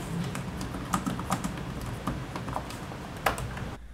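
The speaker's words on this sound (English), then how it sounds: "The keyboard is smooth, not bad at all. It sounds like this." Close, crisp clicks of Acer Swift 3 (SF314-57G) laptop keys tapped in quick irregular bursts, fairly quiet, with no voices.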